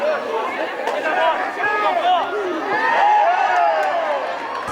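Home fans pack the stands of a sports arena in Ilhabela, filling the space with a loud, dense babble of chatter and murmuring that swells and dips, with nearby voices talking over it.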